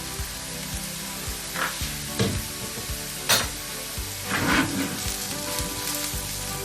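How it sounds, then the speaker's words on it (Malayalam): Chili powder fries in a pan for a traditional Kerala-style Alleppey fish curry, a close, steady sizzle with occasional stirring scrapes and clatters from the spoon against the pan. "അടുത്ത നമുക്കൊരു 2 ടേബിൾ സ്പൂൺ മുളക് പൊടി ഇട്ട് കൊടുക്കാം."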